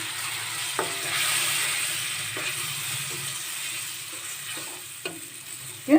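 Ground coconut paste frying in a pan for a coconut rava kheer, a soft continuous sizzle with a few spoon scrapes as it is stirred, and a louder clunk at the end.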